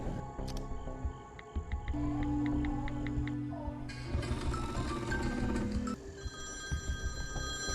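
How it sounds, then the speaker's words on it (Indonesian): Telephone bell ringing in a film scene about a schoolgirl calling her mother, a repeated electronic ring over a background music score and ambient noise. "lalu Millie menelepon ibunya yang ada di rumah untuk segera menjemputnya di sekolah"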